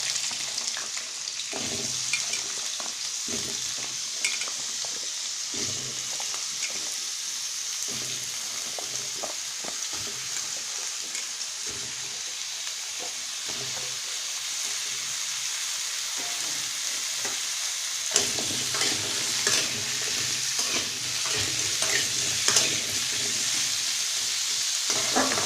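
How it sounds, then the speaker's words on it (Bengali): Potatoes fry in hot oil seasoned with nigella seeds and dried chilli, a continuous loud sizzle broken by scraping stirs of a spatula at irregular intervals, close up and without speech. "আলুগুলো আমি একটু ভালো লাল লাল করে ভাজব।"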